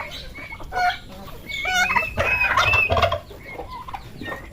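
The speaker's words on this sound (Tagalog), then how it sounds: "Yung aking mga pabo mga lodi oh." Several birds gobble and call over one another in loud, overlapping bursts, a busy flock of turkeys close by.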